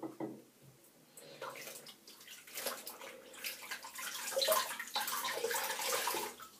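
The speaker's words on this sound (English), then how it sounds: "Now I'm just going to rinse my face again." Water splashing at a sink as a face is rinsed during a shaving routine, close, uneven sloshes and drips building in loudness and continuing steadily.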